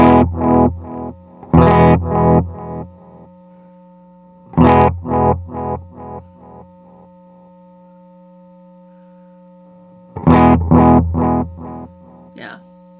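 Electric guitar through a Walrus Audio Mako D1 delay pedal set to a softer attack, playing three separate bursts of quick notes whose delayed repeats trail off behind each phrase, with steady tones sustaining between bursts.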